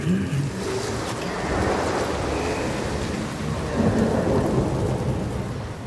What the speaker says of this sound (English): He brings the storms with him.